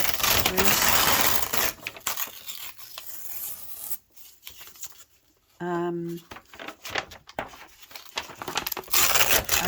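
Paper backing torn and peeled off the back of a picture frame, loud crackling, scraping rips in bursts with a short pause midway, a person speaking briefly in the gap.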